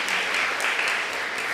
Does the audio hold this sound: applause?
yes